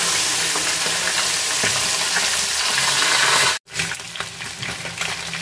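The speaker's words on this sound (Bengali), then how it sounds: "মাছগুলো একটু কড়া করে ভাজছি, যেহেতু তেলাপিয়া মাছ" Small tilapia fish fry crisply in hot oil, giving a loud, dense, continuous sizzle that drops out for an instant midway, then resumes slightly softer with occasional crackles.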